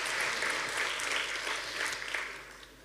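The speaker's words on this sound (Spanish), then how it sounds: "¿Qué les parece si le damos un aplauso a estas personas que nos visitan por primera vez en esta mañana?" A church congregation applauds first-time visitors during a morning service, with a steady, fairly soft wash of many hands clapping that tapers slightly at the close.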